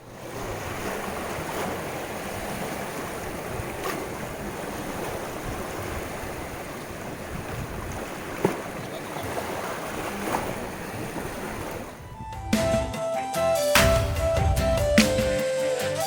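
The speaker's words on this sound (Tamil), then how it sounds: "இங்கே கடல் கொஞ்சம் சீற்றமாக தான் இருந்துச்சு." Rough, surging sea waves at Dhanushkodi beach near Rameswaram, a steady loud roar of surf with wind buffeting the microphone for most of the stretch, then a sudden shift to a sharper, more tonal background near the end.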